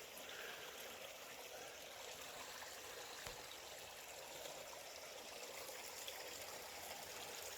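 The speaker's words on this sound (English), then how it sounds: "At least we've got some water flowing" A creek flowing through the bush, a steady broad wash of running water with a faint trickle throughout and no voices.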